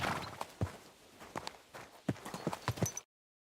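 Horse hooves clip-clop in Kingdom Come Deliverance 2, a few irregular, fairly close thuds over a low background murmur.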